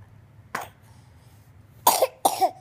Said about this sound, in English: No, just cough.